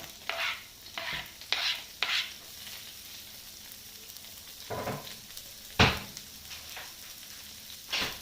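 Shallots and red onion fry in a pan and are stirred, with a quiet sizzle under scattered scraping strokes and a few sharper utensil knocks spaced over several seconds.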